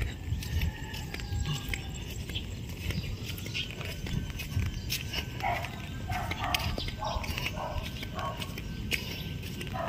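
A dog barks a few times outdoors in the rain, clipped yaps in the middle of the clip, moderately distant against steady rainfall hiss.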